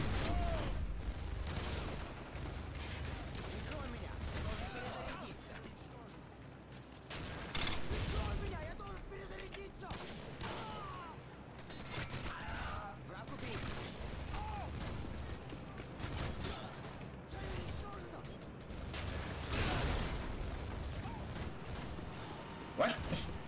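Heavy video game gunfire in Modern Warfare 2 multiplayer, dense overlapping bursts of automatic and single shots with mechanical clatter, loud and continuous, with a player talking at moments.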